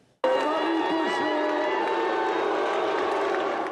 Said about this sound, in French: Il est arrivé sous les huées.